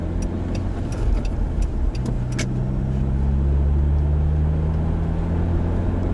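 A Genesis Coupe 2.0 with a manual gearbox pulls away after braking, its low engine drone swelling steadily as it accelerates, heard from inside the car with no talk.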